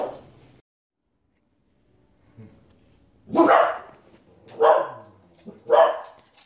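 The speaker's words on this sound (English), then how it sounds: "You hear your puppies barking and you're still sleeping?" Puppies bark indoors, three loud separate yapping barks spaced about a second apart after a quiet pause, with faint whimpering sounds leading in.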